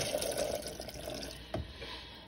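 Water is added to a bowl of soaking gel blaster beads, a quiet close pouring and trickling with a brief splash near the end, and nobody speaks.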